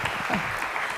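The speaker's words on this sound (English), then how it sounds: "Let's give Katrina a round of applause here." A church congregation breaks into brief, steady applause, a close, even spread of clapping lasting about a second.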